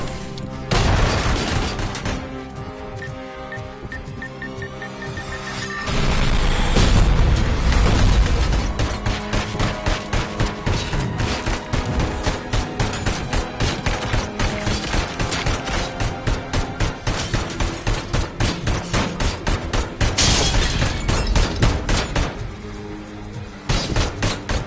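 Pistol gunfire in RoboCop: Rogue City comes as rapid, steady volleys of sharp loud shots over a long stretch, with heavier booming bursts mixed in and brief pauses between runs.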